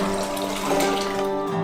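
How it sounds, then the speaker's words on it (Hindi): Tap water pours steadily into a saucepan with a ceramic plate set on its bottom, a close, continuous rushing and filling sound heard alone. "पानी से भर देंगे"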